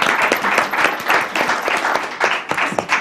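A room full of people applauds steadily, dense overlapping claps at a constant moderate loudness.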